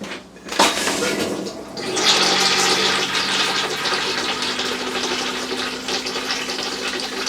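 An RV toilet in a 2024 Aucta Magnolia flushes with a sudden close rush of water, which then settles into a steady gurgling refill that lasts several seconds.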